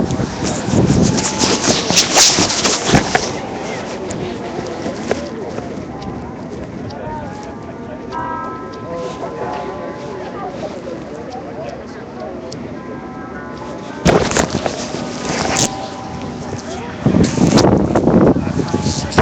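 Wind buffets a microphone outdoors in downtown Asheville, North Carolina, in rumbling gusts that are strongest at the start and again near the end, with someone talking through much of it.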